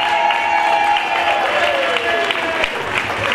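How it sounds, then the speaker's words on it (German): Sustained audience applause at a ski award ceremony for a DSV rollerski performance test in Willingen, steady and dense throughout with a few louder claps and a voice faintly over it. "Auch hier nochmal riesigen Applaus"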